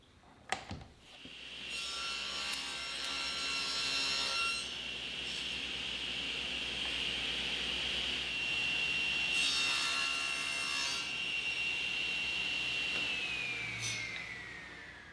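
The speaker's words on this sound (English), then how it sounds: "To cut the 45-degree angle on the end grain, I'll use the miter gauge and a mag switch for the stop." Table saw with a miter gauge cutting a 45-degree angle across the end grain of a wooden board for an outdoor side table: a loud, steady blade whine with a sharp start and a run-down at the end, and no voices.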